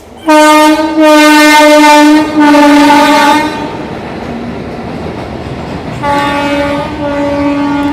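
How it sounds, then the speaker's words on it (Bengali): A goods train passing near Budge Budge station sounds its horn in loud, long blasts, two close together, then a pause filled with rolling rumble before a final sustained blast. "বজবজ থেকে এখন গাড়ি আসছে, গুডস ট্রেন"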